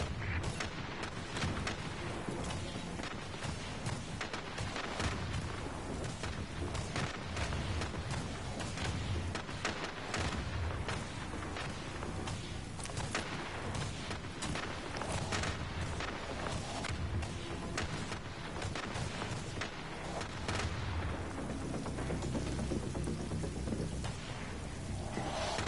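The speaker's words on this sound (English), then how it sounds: "send in the heavy artillery. Yes, sir. Preparing missile barrage." Missile barrage in the video game The Division, a dense, continuous roar of blasts and rumbling impacts that stays loud and steady throughout.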